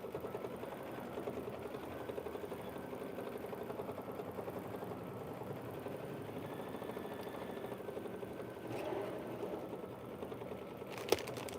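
An embroidery sewing machine stitches a quilt block held in the hoop with blue thread, a steady rapid mechanical chatter running throughout at moderate level, with a sharp click near the end.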